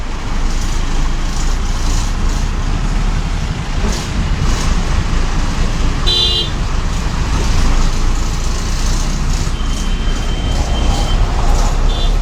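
A bus engine hums steadily from inside the moving Nandivelugu 2 bus, mixed with constant road traffic noise, loud and unbroken, with a brief high tone partway through.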